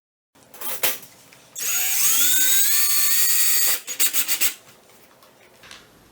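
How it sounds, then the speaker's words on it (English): A power drill bores pilot holes for a metal transition strip on LVP flooring: brief taps, then a loud, close, rising whine lasting about two seconds, followed by a few short bursts. "I'm going to pre-drill these holes as I go along."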